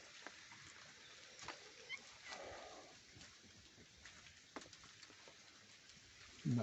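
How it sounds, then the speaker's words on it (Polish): Steady rain falls outside in a cluttered yard where young kittens play, a soft continuous patter with scattered drops on surfaces, fairly faint throughout, ending in a short louder burst of noise. "deszcze padają"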